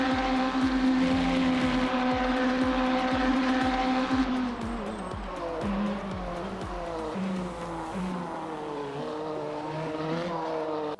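A hypercar in the Le Mans Ultimate racing game brakes hard into a chicane at Spa, its loud engine note dropping steadily with rapid rhythmic pulses through the first seconds before settling into a lower, fluctuating drone.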